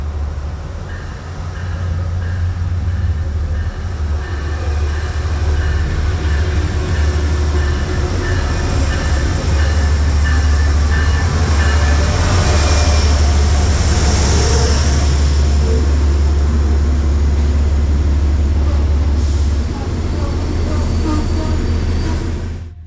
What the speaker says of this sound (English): New Haven 229 erupts into departing the Merritt 7 station under a column of black smoke rising as the big GE lugs train 1868 northbound towards Danbury